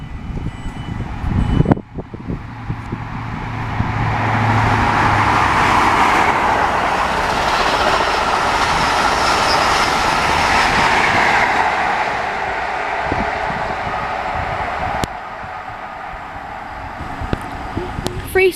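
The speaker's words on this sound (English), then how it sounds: "The train is about to pass is a class 43 HST with service bound for London Paddington." A class 43 HST passes through West Ealing station on the Great Western Main Line, a loud sustained rush of engine and wheel noise building after a couple of seconds and fading toward the end, with a station announcement voice heard.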